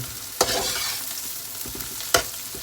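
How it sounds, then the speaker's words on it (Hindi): Chopped garlic and ginger sizzle in a hot pan with a steady frying hiss, broken by two sharp scraping stirs of a spoon, close and alone. "लहसुन अदरक जितना हमें चाहिए था उतना फ्राई हो चुका है।"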